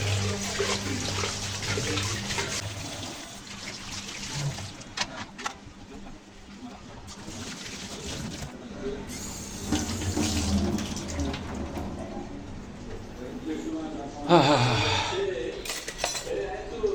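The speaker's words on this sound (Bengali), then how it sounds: "এর মধ্যে ডাল রান্না করছিল অন্বেষা, এটা সে দুপুরে পরিষ্কার করার সময় পাইনি, আমি এটা পরিষ্কার করে দিচ্ছি" A lentil cooking pot being washed under a running kitchen tap, with steady water noise, some clattering of the pot and utensils, and a brief louder splash near the end; a voice talks over it.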